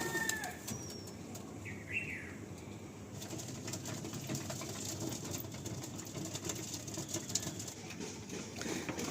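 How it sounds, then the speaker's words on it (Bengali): Pigeons in a loft flutter and flap their wings, one clear burst of wingbeats standing out early over a steady, faint background of soft cooing and rustling, with no voices. "খুব সুন্দর পায়রা রয়েছে"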